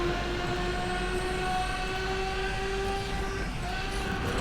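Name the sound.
trains passing in Asphalt 8 video game race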